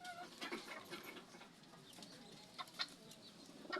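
Hens cluck softly in a backyard flock, with repeated short clucks and a few sharper calls over steady low outdoor background, fairly faint and without speech.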